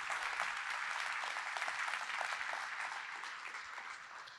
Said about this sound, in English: Clap your hands if that makes any sense